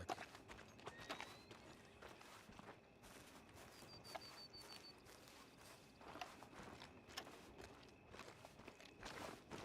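Faint, steady clip-clop of a horse's hooves walking at an even pace in a video game, quiet and somewhat distant.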